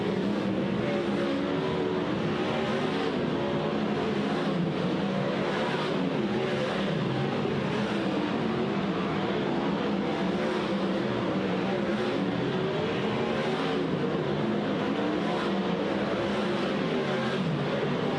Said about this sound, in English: DJ is back onto the racetrack, and we are now under green flag conditions